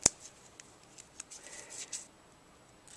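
Scissors snip through paper while cutting out a black-eyed Susan flower, with one sharp loud snip at the start followed by a series of faint, quick cutting clicks close to the microphone.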